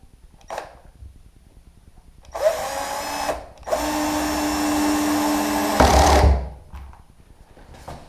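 A power drill drives self-tapping screws to mount door hinges on an outdoor refrigerator, two close whirring bursts, a short one then a longer sustained run, between quieter handling sounds.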